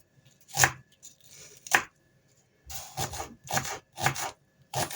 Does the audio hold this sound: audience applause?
no